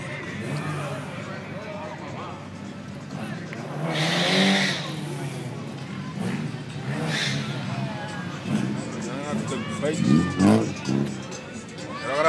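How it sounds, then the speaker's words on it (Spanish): A race car engine rumbles and revs at Salinas Speedway, a dirt oval track, heard steadily in the background under nearby crowd chatter and people talking, with a few louder surges. "Quiero grabar el motor a aquel cabrón."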